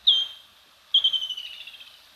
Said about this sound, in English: And the largest heron in the world.